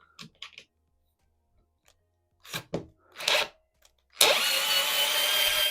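A WORX WX242 4 V cordless screwdriver backing out a screw, with a few light clicks and short bursts, then a loud continuous motor whir running close up to the end.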